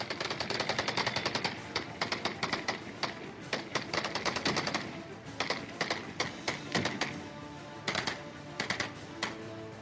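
Rapid bursts of celebratory gunfire at a sheikh's wedding, sharp cracks fired in quick volleys with brief pauses between, loud and continuous over a busy background, with no voices in the foreground.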